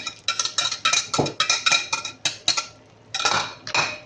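A utensil whisks eggs with butter and black pepper in a bowl for an omelette, giving rapid, close clinking strokes in quick rhythmic bursts, with a short pause before the beating resumes.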